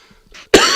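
A person gives a single harsh, close cough after a moment of near silence, with faint quiet sounds before it.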